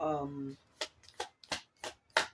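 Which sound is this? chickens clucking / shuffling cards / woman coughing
shuffling cards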